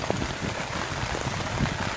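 Steady rain falls on a beach at Pantai Morib, a continuous hiss with scattered patter of drops on a surface, no voices.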